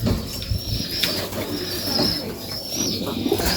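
Black desi pigeons on a farm loft coo steadily while feeding their chicks, a continuous low murmur of overlapping calls with soft rustling and faint wing sounds close by.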